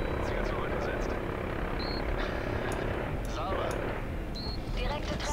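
A helicopter in Call of Duty: Modern Warfare 3 drones steadily with a thrumming rotor, with faint chirps and distant bursts scattered over it.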